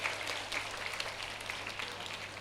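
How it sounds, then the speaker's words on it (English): Audience applause for teachers at a school event at St. Joseph of Cluny in Pondicherry, a fairly faint, steady patter of many hands clapping, heard from a distance over a low hum. "You can put up your hands once again and give a good round of applause for your teachers"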